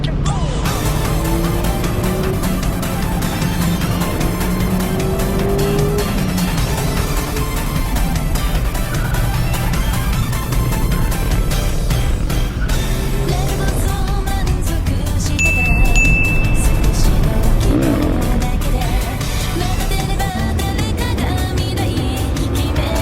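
Mazda MX-5 driven hard up the Palomar Mountain road in a group drive, engine droning loudly and steadily from inside the cabin with revs rising and falling, a brief chime partway through.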